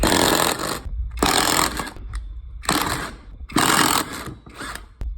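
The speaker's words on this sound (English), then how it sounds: "pop these lugs loose" Lug nuts come loose on the wheel of a Can-Am Outlander/Renegade ATV in a series of loud, close impact-gun bursts, four long rattling runs with short gaps and a brief final burst, no speech.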